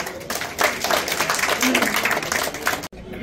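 A crowd at a BJP election rally in Janakpuri, Delhi, breaks into loud, dense applause and cheering that fills the clip, then cuts off abruptly near the end.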